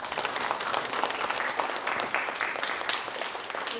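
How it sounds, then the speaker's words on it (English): An audience applauds panelists at the close of a community panel discussion, a sustained round of dense, steady clapping from a room of people with no voices over it. "let's give our panelists a round of applause"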